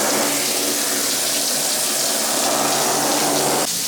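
Water sprays steadily from a handheld shower head onto a chair being cleaned, a loud, continuous hiss that stops abruptly near the end.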